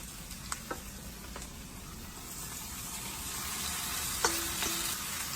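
Pork hits a hot pan for pancit palabok and sizzles steadily, a constant frying hiss with a few sharp clinks of a utensil against the pan.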